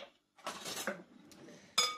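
A spoon clinks against a bowl while vegetable pakora batter is mixed, with a few soft scraping clinks and a brighter ringing clink near the end, close by with no talking.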